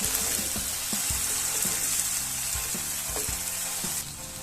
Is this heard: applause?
no